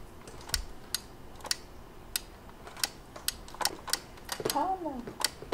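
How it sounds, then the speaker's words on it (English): Sharp clicks of USB foot switch pedals pressed during an Overwatch game, an irregular scattering of single taps, with faint talk and game sounds behind them. "every click, click, click, click, that's the foot pedals"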